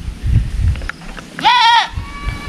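A goat bleats once, a clear wavering call of about half a second standing out over low background noise and faint talk nearby.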